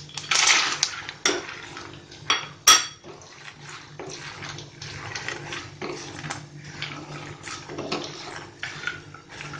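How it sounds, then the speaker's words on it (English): Almonds tip into a pan of cumin seeds and curry leaves while a keto nut mixture is cooked. A sharp clatter rings out near the start, then softer rattles and a steady background sizzle continue. "Now I'm going to add almonds."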